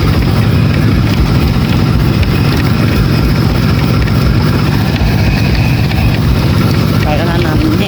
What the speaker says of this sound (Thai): โอ้รถไถกันเนาะ